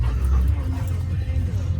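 Dogs in a $1,000 used car whimper and pant close by, a dense run of whines and breathy pants against low cabin rumble.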